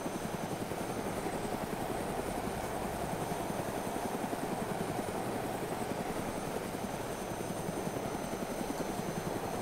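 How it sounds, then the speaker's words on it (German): Helicopter in the video game DayZ, a continuous rapid rotor chop with engine whine, steady and close throughout, no talking. "Ich lande mal auf dem Heli-Landeplatz."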